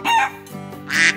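A rooster crows loudly and up close in two bursts, the second call louder, with some clucking between them and no other sounds.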